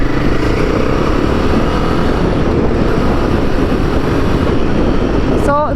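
A Royal Enfield Himalayan 450 motorcycle rides along a bumpy, uneven road, with a steady, loud engine and wind roar filling the whole stretch without letup.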